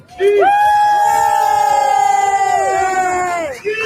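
A crowd cheers on Thorold Stone Road at a cannabis shop opening, a loud sustained chorus of shouts and whoops rising together right after a countdown and tapering off near the end.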